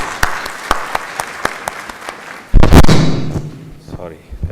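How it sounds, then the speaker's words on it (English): Audience applause at a breast cancer awareness session, a burst of clapping with a loud thud near the middle, fading toward the end after scattered earlier claps. "I'd like a round of applause for Dr. Arif Alvi and Mrs. Samina Alvi."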